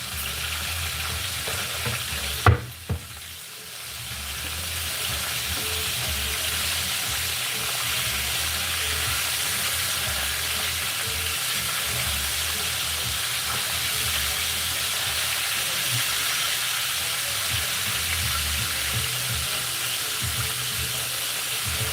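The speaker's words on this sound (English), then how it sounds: "Let me flip my chicken a little bit and then I'm gonna take it out." Seasoned chicken frying in hot oil, a dense steady sizzle that fills the space, broken early by a brief clatter as the pieces are flipped, then crackling on evenly.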